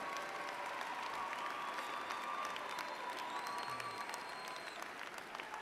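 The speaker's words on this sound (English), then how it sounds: "Let us give a grateful applause to Kean University" Faint, distant applause from a large crowd at a university undergraduate commencement ceremony, heard as a steady, even patter of many hands that continues unbroken throughout, with occasional tonal hum beneath it.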